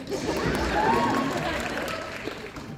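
An audience claps at a Comic Con celebrity panel, steady crowd applause that carries a little distance through the hall, with voices murmuring underneath.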